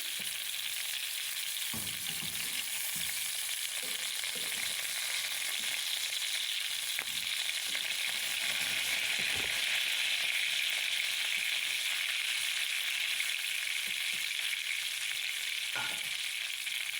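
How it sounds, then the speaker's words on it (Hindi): Gola kababs fry slowly in oil in a pan over low heat, giving a steady, even hiss of sizzling with a few faint clinks and stirring taps, close and without talk. "बिल्कुल स्लो आंच पे इसको फ्राई करेंगे हम।"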